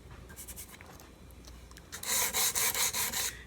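Mahogany being hand sanded with sandpaper along the grain, working out rasp tool marks on a banjo neck during finishing; soft scratchy strokes, faint at first, then a loud, steady run of close rasping rubs.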